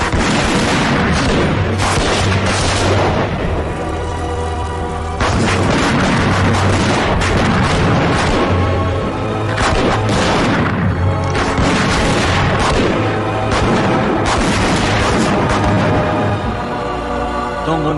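Repeated booming explosions and blasts from an action scene in a Hindi film, loud and dense throughout with a continuous thundering rumble and layered bursts, no talk over them.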